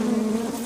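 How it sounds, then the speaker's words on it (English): Honey bees from a package buzz loudly and steadily during shaking, a dense droning hum filling the whole short moment with no voices. "I'm just going to shake them. Alright, so the thing is, I really still don't want all the bees out just yet."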